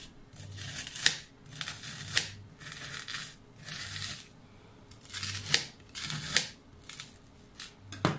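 A knife scraping across hard ice cream just out of the freezer, several rough rasping strokes in a repeating rhythm, close and distinct.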